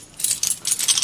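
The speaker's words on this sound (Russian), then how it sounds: "Набор ключей." A set of metal wrenches from a bicycle rack parcel jangles and clinks in several bright bursts as it is unpacked, close and fairly loud, with no talk.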